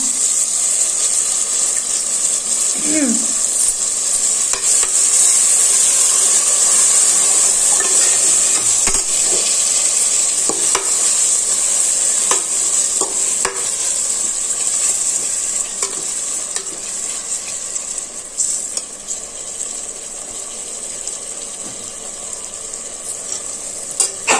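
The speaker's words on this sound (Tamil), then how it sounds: "கொஞ்சம் தக்காளி வதங்கட்டும் இப்போ நல்லா வதங்கிருச்சு தக்காளி எல்லாமே மசாலாலாம்" Tomato and masala sautéing for chicken biryani, a continuous loud sizzle with repeated scraping strokes of a spoon stirring through the pan, steady and close, fading slightly toward the end.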